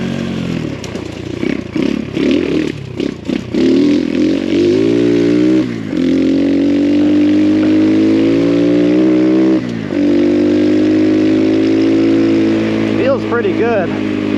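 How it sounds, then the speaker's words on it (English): Engine of an X Pro Storm 150 DLX ultra-light dual-sport pit bike running close by, a steady loud drone that rises and falls with changing revs, with a person talking over it. "Engine seems like it's getting smoother as I'm running it"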